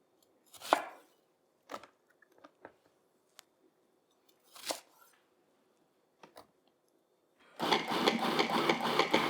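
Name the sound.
knife cutting chunks of falafel mixture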